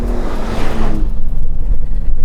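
A Ford F-150 Raptor truck's engine revs hard off road, a loud roaring surge that peaks early and then drops to a steady low rumble, heard alone without talk.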